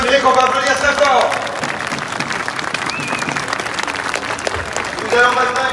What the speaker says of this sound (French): Merci à Régis Le Sommier qu'on va applaudir très fort